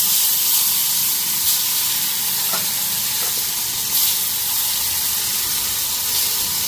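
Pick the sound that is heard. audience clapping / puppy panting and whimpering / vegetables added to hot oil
vegetables added to hot oil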